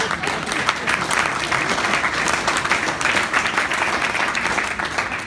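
A room full of people applauding steadily, dense continuous clapping that holds at an even level throughout without any pause.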